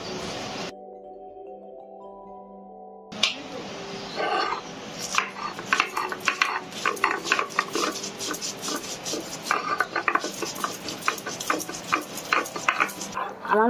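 Cumin, chilli, ginger and tomato ground by hand on a stone slab, a steady run of close scraping and grinding strokes with sharp clicks that follow a quiet start holding a faint tone.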